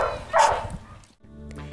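Missy, a pet dog, lets out a single loud, close greeting bark, followed by quieter whimpering and faint sounds in the background.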